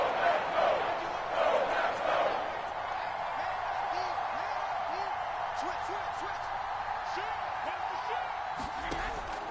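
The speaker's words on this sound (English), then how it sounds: "the crowd getting into it as we come up on a big third down" Stadium crowd in an American football video game building toward a big third down, a broad roar that swells early and then settles into a sustained murmur, with short rhythmic thumps and squeaks in the background.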